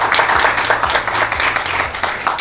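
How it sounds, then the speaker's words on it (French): Audience at a youth book fair claps steadily after an author is introduced, dense applause filling the room with a low hum of voices beneath. "on applaudit"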